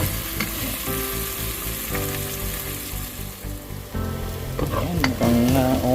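Sweet potato sautéing in a pan, a loud continuous sizzle with scraping stirs and clatter of a utensil, and a musical tone backing the sound throughout.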